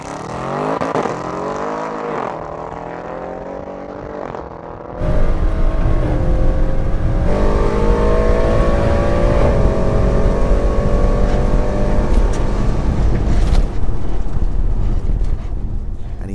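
An Audi RS6 and an Audi R8 V10+ launch side by side in a quarter mile drag race, with engine note rising through the gears, then a sudden loud surge as the cars blast away and roar on at full throttle.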